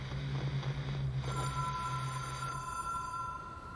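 A telephone rings inside a room lined with sound-damping material in the video game Control, a steady electronic tone entering over a low, droning ambient hum and sustaining to the end.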